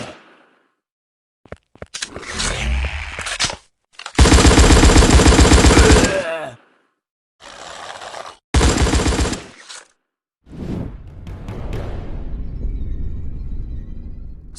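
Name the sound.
heavy weapon gunfire in video game Dead Zone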